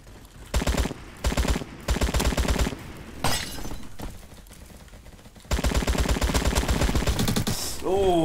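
Gunfire in a Roblox shooting game sounds in loud, rapid automatic bursts separated by short pauses, ending in a long sustained spray of shots close up.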